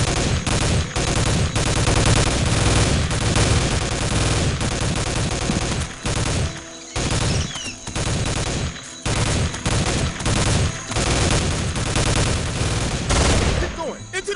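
Loud, dense gunfire in the Soldier of Fortune 2 shooter, with sniper fire among it: sustained bursts of shots and impacts run nearly the whole time, broken by a few brief lulls.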